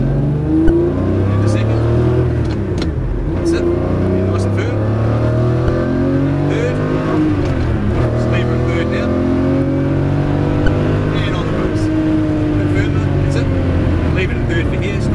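A Ferrari supercar accelerates hard on the Hampton Downs race track near Auckland, its engine note rising and falling through sweeping revs close up, with a voice speaking over the engine at times.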